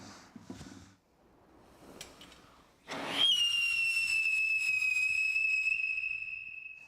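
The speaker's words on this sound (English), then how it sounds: "The whistle is just a little bit of composition in the bottom of a tube made from potassium benzoate or potassium salicylate" A firework whistle, a small charge of potassium benzoate or potassium salicylate composition burning in a tube, follows a few faint crackles and pops. It bursts into a loud, piercing, sustained tone that slowly drops in pitch and holds to the end.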